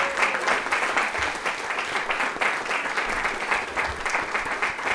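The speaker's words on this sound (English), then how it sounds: "So can we just give them a big round of applause?" An audience at a school board meeting applauds Cabrillo school staff with dense, steady clapping, loud and close, sustained without a break.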